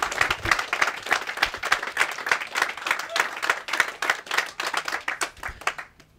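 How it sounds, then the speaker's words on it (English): A modest crowd claps for a sports team, individual hand claps audible and slightly uneven in a close, roomy space, holding steady before cutting off abruptly at the end. "I think we should give them a round of applause."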